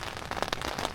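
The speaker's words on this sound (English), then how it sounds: "It basically rained all night and it's going to rain all day today" Rain drums on a tent through a wet night on a hiking trail, a dense, steady patter with a few sharper drops standing out close by.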